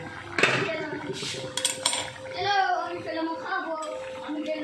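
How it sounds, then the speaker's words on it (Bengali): A metal lid comes off a pot of hilsa fish curry with potato and pointed gourd, giving a sharp clank and some rattling clinks, with a voice and light kitchen noise behind. "এবারে ঢাকনাটা খুলে নিচ্ছি"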